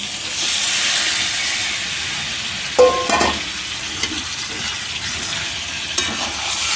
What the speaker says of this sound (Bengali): এইবার এইটার সাথে মশলার সাথে ভালো করে কষতে হবে